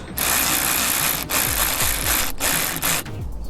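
A ratchet wrench turns rapidly, tightening throttle-body bolts on a Mustang fitted with an SR Performance 62 twin throttle body, its dense close clicking running almost continuously with brief pauses between strokes.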